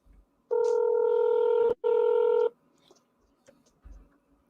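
Telephone on a call being placed back to a disconnected caller, giving two long steady tones with a brief gap between them, clear and close, then near silence with faint clicks.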